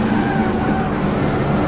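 A car in PUBG brakes and drives on across a steep hillside, the engine a loud, constant drone up close with a light scrubbing of tires and no talk.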